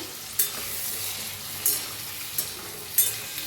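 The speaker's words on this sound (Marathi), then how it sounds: "बघा दोन मिनिट झाले ते त्याला पुन्हा हलवून घेऊया" Spicy eggplant curry frying in a pan gives a steady close sizzle, with a spoon scraping through it in four distinct stirring strokes, no voices.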